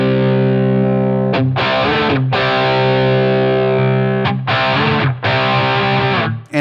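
Electric guitar run through an ADT tape doubler effect on a Line 6 Helix at slow tape speed, giving a dark, smooth, gooey tone; loud sustained distorted chords with a few brief breaks between strums, no voice.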